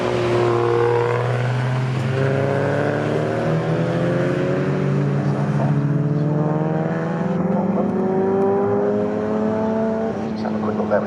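Jaguar race cars in a CSCC Jaguar Championship race at Snetterton roar past nearby, engines rising and falling in pitch as each one sweeps by in a loud, continuous pass-by with a commentator talking over it.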